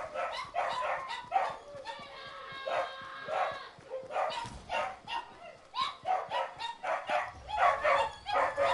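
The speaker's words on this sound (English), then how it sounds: "Oh, my God, my dog." A dog barks repeatedly in short, sharp bursts with yips and a whimper mixed in, fairly close and uneven in rhythm, with brief gaps between barks.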